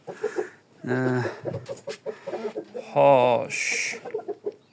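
A chicken of Japanese origin clucks in a few short, harmonic bursts, loud and close, with a voice talking between the calls.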